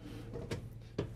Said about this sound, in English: It's not only a nice way to shut your drawers, but it also keeps them kind of tight to the stiles there, so it's not gonna rattle going down the road.